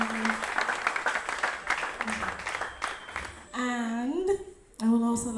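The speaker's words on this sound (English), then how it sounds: "A round of applause for him." An audience claps in a scene from a Nigerian Nollywood drama, a dense patter for about three seconds. A voice then talks over the fading applause.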